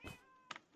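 A cat meows in the modded Minecraft video game, two or three short, faint mews in quick succession with no talking.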